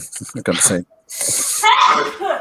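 A single sharp sneeze breaks into a conversation, loud and close, with people talking just before and right after it.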